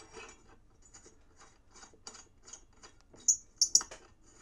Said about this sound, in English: Okay, tighten it back up.